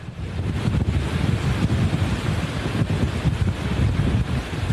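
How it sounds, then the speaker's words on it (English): Hurricane Irma's winds battering the microphone as the eye passes through Sarasota, a loud, relentless roar of gusting wind with rumbling buffeting, constant throughout and no speech. "it's amazing that you're even able to stand up against that wind there"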